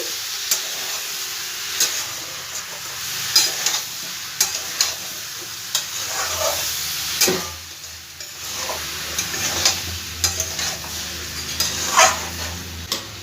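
Vegetables with ginger are stirred in a pan over a medium gas flame, giving a soft sizzle under irregular scraping strokes close by. A dog barks faintly in the background now and then.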